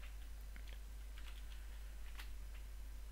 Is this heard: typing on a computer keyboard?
yes